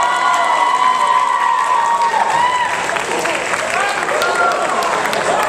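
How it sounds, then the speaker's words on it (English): Students at a high school senior assembly applaud and cheer for Kyle Lumsden, loud clapping mixed with whoops and shouts from a crowded room, holding strong throughout. "Give him a round of applause"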